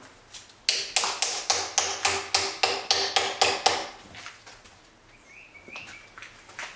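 Steady run of about a dozen quick, close, sharp taps as shims are worked under a concrete countertop form to pry it up, then a quieter stretch with faint chirps.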